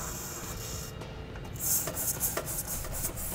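A pipe brush scrubs back and forth over bolt threads inside the frame of a 2017 truck during a trailer hitch install, making a steady, gritty rasping and rubbing, close and continuous, with no voices.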